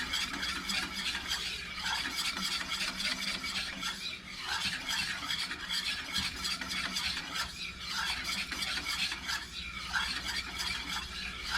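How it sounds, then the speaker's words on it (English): A roux of flour and oil stirred constantly in a pan, giving a steady, close rasping scrape that keeps going without pause, with faint sizzling underneath and no voices. "I am standing over it and stirring it constantly"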